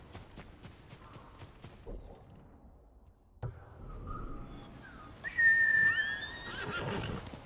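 A horse whinnies in the video game Ghost of Tsushima, giving a rising, wavering neigh in the second half of the clip. It follows a few seconds of soft footsteps and ambient rustling.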